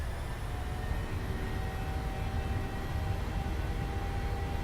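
Boeing 737-800 jet engines spooling up for takeoff in a flight simulator, a steady loud broadband roar with a thin high whine, continuous and close, without talk.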